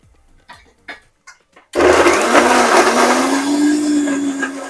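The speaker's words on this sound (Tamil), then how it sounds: "இந்த மசாலா அரைச்சி வச்சுருக்கிற மசாலா சேர்த்து நம்ம இந்த ஜாரில் 2 தக்காளி அரைச்சிக்கலாம்." Mixer grinder jar grinding tomatoes with masala paste: after a few light knocks and taps, the motor roars to life loudly and runs steadily at a high whine until the end, up close.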